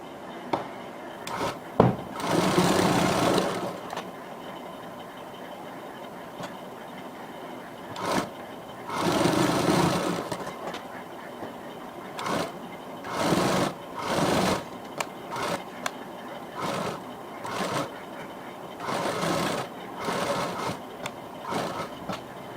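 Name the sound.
sewing machine stitching the edge of a Barbie frock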